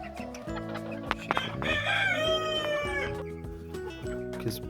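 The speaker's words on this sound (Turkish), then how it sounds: "kümesimizde ise Warberg yarkalarımız var" Warberg hens in a dim backyard coop, including black, white-collared and blue-collared birds, clucking and cackling close by, with overlapping calls and a drawn-out squawking cry in the middle and no talk.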